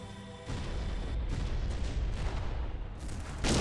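Gunfire opening up in a starfighter space battle game, a steady dense roar of weapon fire and rumbling blasts that holds throughout and swells louder at the very end.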